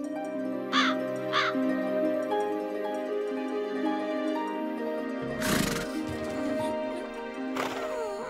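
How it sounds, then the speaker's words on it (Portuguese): In an animated cartoon, a crow caws a few times amid farmyard sounds, with horse whinnies and hoof clops nearby and a musical background throughout. "Acabei de ver um corvo voar aqui pra dentro e pegar uma moeda do chão."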